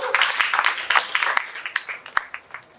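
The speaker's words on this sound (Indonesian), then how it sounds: "Tepuk tangan untuk Pak Didik Panji" Audience clapping at a theater artists' award event, a lively burst of many hands that thins into scattered, uneven claps over a few seconds, fairly close and with little talk.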